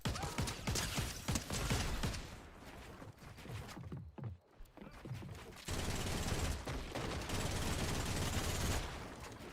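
Rapid automatic gunfire from the video game Fortnite, dense bursts with mechanical clatter filling most of the stretch, a brief lull near the middle, then another sustained loud volley.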